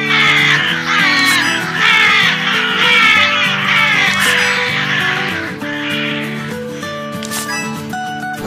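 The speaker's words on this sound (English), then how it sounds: "The harvest, there are so many crows." Cartoon crows in a farm video game caw repeatedly in rapid, harsh bursts over a cheerful looping background melody, the calls loud and clustered before tapering off.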